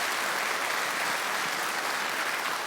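Steady, even applause fills a commemorative ceremony as guests are welcomed, a continuous wash of many hands clapping with no talk.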